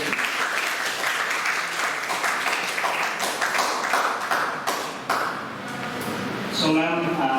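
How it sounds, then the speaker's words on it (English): Seminar audience applauds a guest lecturer on intellectual property rights, steady close clapping that runs on for several seconds and then swells again near the end. "I want to clap for ma'am."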